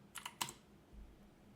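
A few quick, faint keystrokes on a computer keyboard as number keys are typed and Enter is pressed, with clicks close together in a quiet room.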